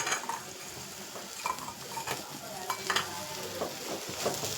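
Quail egg gravy stirred in a pan with ghee: a spoon scraping and clinking against the metal over a steady sizzle, in irregular strokes.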